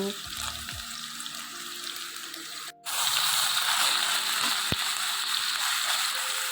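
Ginger-garlic paste frying in hot oil for a potato, tomato and tengra fish curry gives a steady, loud sizzle that cuts out briefly midway, then resumes stronger with occasional faint stirring knocks.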